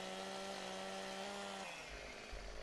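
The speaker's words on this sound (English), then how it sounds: "See, if you move your chainsaw any, it won't cut right." A chainsaw in Farming Simulator 17 cuts through trees with a steady, droning engine whine whose pitch shifts partway as the blade bites into the wood, heard close and continuous with no talking.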